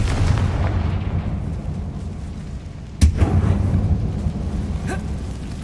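A Confringo spell explodes in the Hogwarts Legacy video game. A single sharp blast cuts through a steady, rumbling background and then fades into the ongoing game noise.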